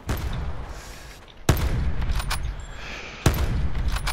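Gunfire in the Blackout video game: two sharp, loud shots about two seconds apart, each followed by a rumbling tail over a continuous noisy game background.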